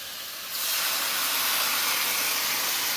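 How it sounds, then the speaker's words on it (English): Coconut milk hits a simmering Jaffna crab curry with a sudden loud steamy hiss that starts half a second in and holds strong and even to the end, with no talking. "And now at this point we will add in the coconut milk"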